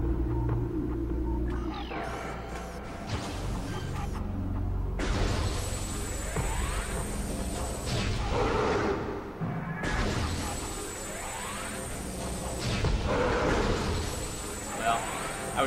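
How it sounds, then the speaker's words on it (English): Super missiles are fired in the Metroid Prime video game: a few heavy booming blasts with shattering tails, spread through a dense wash of game music and effects, with a voice talking over parts of it. "Trying to use super missiles there"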